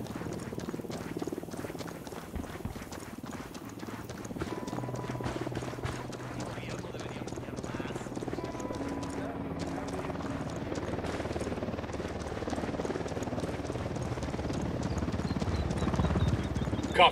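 A helicopter in the video game Ghost Recon Wildlands thrums with a rhythmic rotor chop beneath gunfire and in-game voices, growing louder toward the end.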